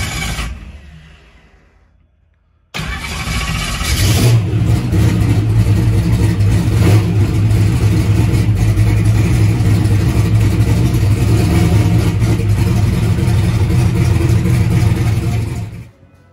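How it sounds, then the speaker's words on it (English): A drag car engine starts up in a shop and settles into a loud, steady running roar with a deep low rumble, close by and continuous for most of the stretch after a brief quiet start. "Okay, so just got over here, got this thing cranked up, got it in the shop."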